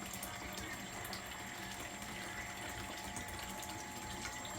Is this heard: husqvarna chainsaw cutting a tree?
no